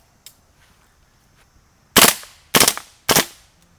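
Three loud, sharp shots from an AGM M4 gas blowback airsoft rifle, fired about half a second apart after a quiet stretch with a faint click, close and without speech.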